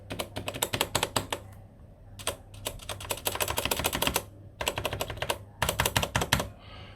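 Rapid mechanical keyboard keystrokes in several bursts, clicky and close, with short pauses between runs of typing.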